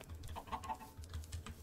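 Chickens in the game Minecraft cluck softly, with a few short clucks and low murmurs scattered over a quiet couple of seconds.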